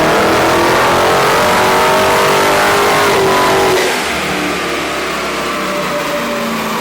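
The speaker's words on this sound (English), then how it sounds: "This Hellcat can be either very quiet or very loud, depending on how much throttle you give it." A 707 hp Dodge Hellcat V8 revving hard under throttle, a loud, dense roar that drops abruptly to a lower, steadier engine rumble partway through.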